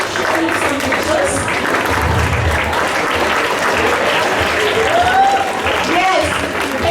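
A school assembly audience applauds a school award, with dense, continuous clapping from a large crowd filling the hall for the whole stretch, with voices faintly mixed in.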